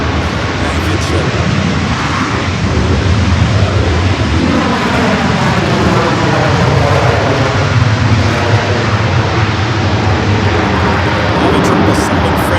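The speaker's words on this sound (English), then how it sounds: "A 777 freighter taking off there on the south." A China Southern Cargo Boeing 777 freighter takes off at LAX, a loud, continuous jet-engine roar with a rumbling low end that holds steady across the whole stretch.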